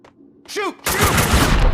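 Video game gunfire from Max Payne 2: a sudden loud burst of sustained shooting erupts after a short shouted voice, with dense rapid shots continuing to the end.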